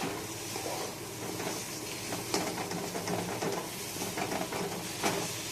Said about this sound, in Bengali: আমি কড়াইয়ের মধ্যে বাদামটাকে একটু লাল লাল করে ভেজে নিচ্ছি